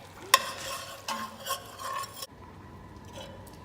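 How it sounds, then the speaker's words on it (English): Spoon stirring food in a hot pan on the stove, with a sharp initial clink followed by soft scraping swirls over a faint sizzle, near and moderate, fading to a quiet hiss. "Stir until heated and then turn off the heat."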